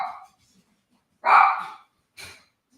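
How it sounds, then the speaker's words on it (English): A dog barks three times nearby, a loud first bark, a stronger second and a shorter third, with silent gaps between. "I'm gonna let my dog out."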